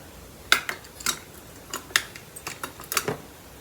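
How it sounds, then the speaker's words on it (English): Mustard seeds popping and crackling in hot coconut oil in a pan, a sparse scatter of sharp little pops and ticks at irregular intervals, close and fairly quiet, with no talking. "I will be cooking this in coconut oil. We add in mustard seeds."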